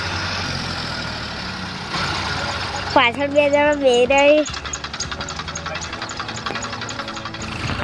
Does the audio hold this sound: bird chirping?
no